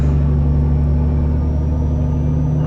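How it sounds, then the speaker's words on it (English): A Volvo FH 2013 truck engine in Euro Truck Simulator 2 rumbles steadily, loud and low, droning continuously at idle, close and unchanging throughout. "Listen to this truck."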